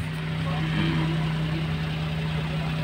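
A Toyota Wigo engine idles just after a cold start, still above 1,000 RPM, giving a steady, even hum with a constant low tone held throughout at close range.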